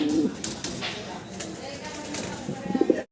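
Muffed helmet pigeons coo softly in their coop, low murmuring calls rising near the end, with light tapping and scuffling noise throughout and no clear talking.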